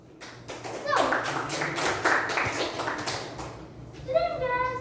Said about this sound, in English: Give a round of applause to every speaker